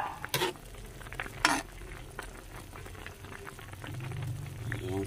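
Chicken pieces with bottle gourd and tofu simmering in a pot, a quiet bubbling and gentle boil with a couple of brief stirring or utensil clinks early on.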